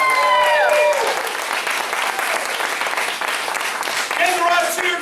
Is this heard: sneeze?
no